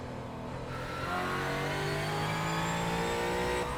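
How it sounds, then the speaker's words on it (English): A Ford Mustang GT4 race car engine in the iRacing sim drones loudly and continuously at high revs, rising slightly in pitch as it accelerates, with no talk over it. "Let's go on board and listen to the engine."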